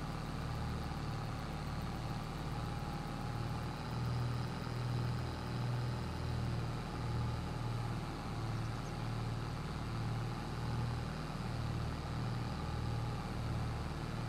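A TW35 tractor engine in Farming Simulator labors under load, giving a steady low drone with a slight rhythmic pulse that holds at moderate volume throughout, with no voices.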